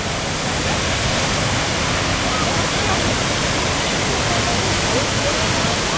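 A loud, constant roar of rushing water, dense and unbroken, heard from near the Blue Nile Falls at Tis Abay, Ethiopia.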